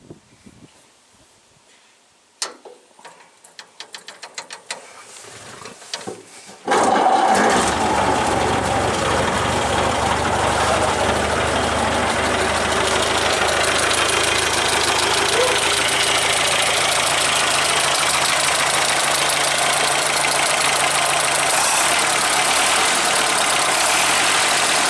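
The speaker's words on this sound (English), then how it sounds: "I'll let you have a listen if we can pick up the sound of this engine rattling away" A worn Model A hot rod engine fires up and runs with a loud, steady rattling, knocking idle that fills the space after a few seconds of quieter clatter and handling noise.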